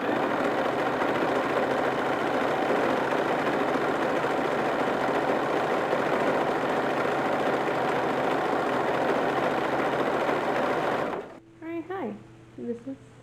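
Steady, fast mechanical whirring of a sewing machine running continuously while stitching a facing onto a front panel of an early 1850s wrapper dress. It stops abruptly near the end, leaving quieter sounds.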